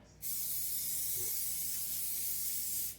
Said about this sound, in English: spray this with coconut oil